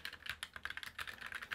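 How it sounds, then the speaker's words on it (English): Fast typing on a compact Roccat Vulcan 2 Mini mechanical keyboard, a quiet run of close, even keystroke clicks with no voices. "As you can hear, it's not the loudest keyboard out there."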